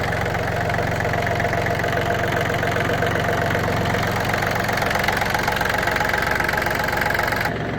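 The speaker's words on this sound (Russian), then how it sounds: "трактор работает идеально" A Yanmar F-210 mini tractor's small engine idles steadily with a constant low rumble and slight knocking, running alone without pause until it cuts off abruptly near the end.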